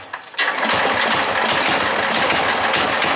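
Bolens GroundsKeeper tractor engine catching on a cold start, then running as a loud, close, rapid chugging idle with an uneven, rough beat.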